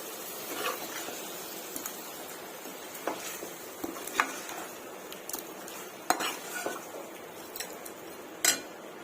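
Chicken being stirred with spices and turmeric for a curry, a spoon scraping and clinking against the pot in a steady run of close, irregular scrapes and taps, with a faint sizzle underneath.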